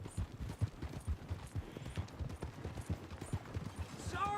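Horses' hooves clip-clop in a steady walking rhythm in a video game, close and moderately loud, with a short rising whoosh-like tone at the end.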